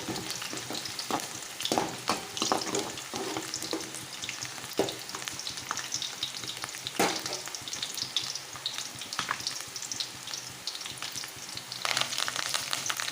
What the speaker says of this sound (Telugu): ఇక్కడైతే నేను చేపల కూర వండుతున్నాను ఆల్రెడీ ఇంకా కొద్దిగా వేగితే సరిపోతుందండి